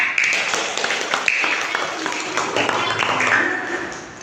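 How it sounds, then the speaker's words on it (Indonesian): Schoolchildren in a classroom clapping for a group of classmates, a brief scattered round of hand claps with young voices mixed in. "Tepuk tangan buat kelompok 3."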